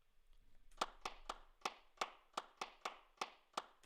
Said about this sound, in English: These are virtual hand claps